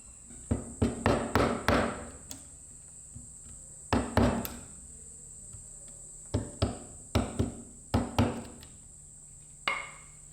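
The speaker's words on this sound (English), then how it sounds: "it seems like the chisel and the X-Acto knife might work. So I'm just going to keep scoring it and chiseling away until I get down to depth" A chisel and an X-Acto knife carving a slot into a guitar body by hand, heard as clusters of sharp, close taps and scrapes in short bursts separated by pauses, over a faint steady hiss.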